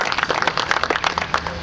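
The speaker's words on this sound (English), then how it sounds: "It deserves a round of applause." A brief burst of dense audience clapping, a quick run of crisp overlapping claps.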